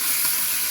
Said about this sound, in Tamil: புதினா, கொத்தமல்லி, இது வந்து நல்லா சாட்டே பண்ணிக்கணும்.